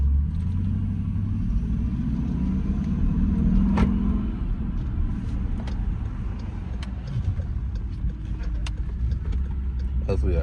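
Steady low engine rumble from a car with a 5.7L Hemi engine, heard from inside the cabin while cruising, with road noise and occasional light clicks throughout.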